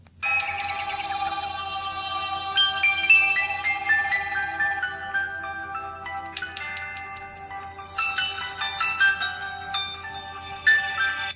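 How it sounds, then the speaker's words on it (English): An LG Wine II phone plays its ringtone, a gentle chiming melody of bell-like tones that rise and fall in a looping pattern, clear and moderately loud with no voices. "Old people ringtone."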